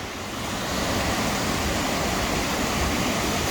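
Water rushes over Llanberis waterfall as a loud, steady, broadband roar that fills the whole stretch with no pauses and no voices.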